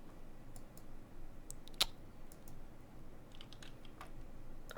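A computer mouse clicks quietly at close range, several light sharp clicks scattered irregularly, with one louder click standing out, in an otherwise quiet room.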